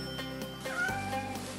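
A cartoon kitten meows once in a drawn-out, rising tone near the end, set over light background music with soft plucked notes.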